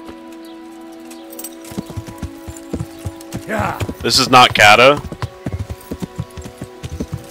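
Horse hooves clip-clop in the Kingdom Come: Deliverance video game, a steady run of close, evenly spaced hoofbeats under men chatting, with a louder burst of speech near the middle.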